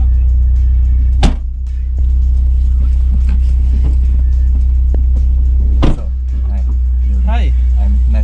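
A 2020 Mini John Cooper Works GP on a race track gives a deep, steady engine rumble, with brief sharp knocks and voices over it.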